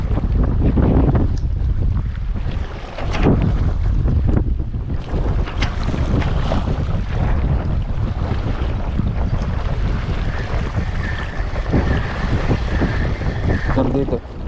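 Strong wind buffets the microphone in steady, loud gusts while fishing from a boat on open water, with waves and surf rushing beneath; a faint steady tone appears later.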